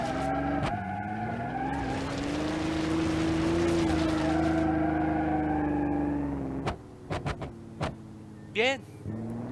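A car in the BeamNG.drive driving game slides and skids with sustained tire squeal over a steady engine drone for about six seconds, then breaks into short bursts and chirps as the slide ends.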